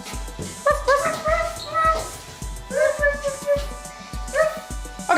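A person imitates a puppy with repeated high yips, little barks and whimpers in an irregular rhythm, close and fairly loud, about six short bursts.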